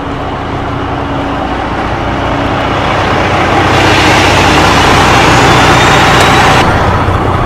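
A truck engine idles steadily and loudly, a continuous low rumble that swells slightly partway through, with no voices over it.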